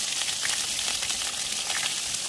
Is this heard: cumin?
yes